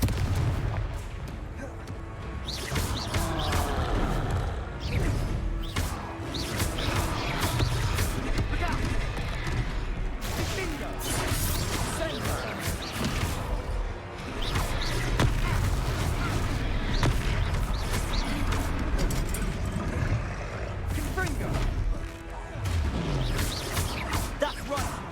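Repeated Confringo blasting spell explosions in the Hogwarts Legacy video game, loud booms and crashing impacts following each other densely for the whole stretch, with a full, continuous battle din and bits of game voice mixed in.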